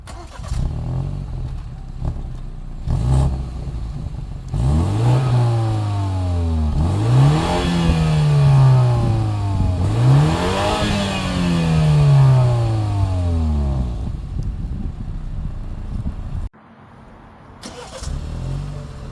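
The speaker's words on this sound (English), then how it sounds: "you have dual exhaust back here, and it actually sounds pretty nice" A 2022 BMW X3 xDrive30i engine revs up and down three times in rising and falling sweeps, a deep throaty dual-exhaust note close by, then settles back to idle.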